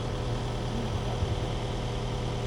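Tractor or wood splitter engine running steadily at an idle during storm cleanup at an RV park, a continuous low rumble with even vibration and no talking.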